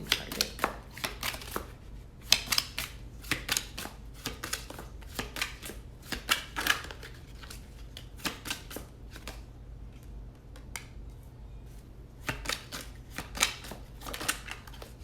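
A deck of playing cards used for card reading is shuffled by hand, with fast ruffling riffles and tapping slaps repeating in bursts, close and clear over a low steady hum, pausing briefly before resuming.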